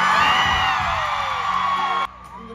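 A stadium crowd of about 70,000 cheers and whoops at a concert at Raymond James Stadium in Tampa, a loud sustained roar that drops off sharply near the end.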